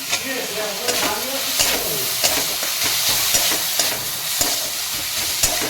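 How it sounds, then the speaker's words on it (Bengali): Steady sizzling of a thick spice paste with turmeric and cashews frying in a pan, with repeated scraping stirs at a regular pace, close up and fairly loud. "এটাকে আমি মশলাটাকে ভালো করে ভেজে নেবো"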